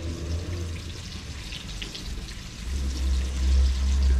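Two slices of Maltese bacon with sausages frying in a pot for a one-pot breakfast, a close steady sizzle with low rumbling that swells louder near the end.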